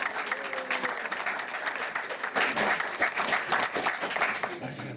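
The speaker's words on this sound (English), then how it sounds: "And we can clap." Audience clapping at a county commission meeting, a steady wash of many hands that swells midway and tapers off at the end, with brief voices underneath.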